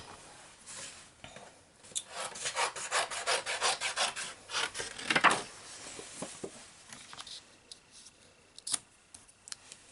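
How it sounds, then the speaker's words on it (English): Scissors or a cutter slice through a piece of paper during stamping craft work, a run of quick close rasping snips and rubs in the middle, fairly quiet, with faint handling noises before and after. "And I'm going to cut another piece of paper."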